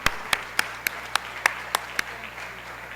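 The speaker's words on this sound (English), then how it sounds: "Please give our newest member a round of applause" A small group at a Rotary Club meeting applauds a new member with crisp, evenly spaced claps, about eight distinct loud strikes close by that fade into lighter scattered clapping, over a low room hum.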